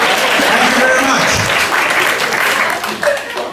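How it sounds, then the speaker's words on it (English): Audience at a comedy show in a restaurant venue bursting into sustained applause and clapping, a dense, full wash of hands lasting several seconds with a few voices mixed in. "A round of applause for him, please"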